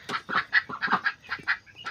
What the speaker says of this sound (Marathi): हे बदकं किती आवडीने खातात बघा आता.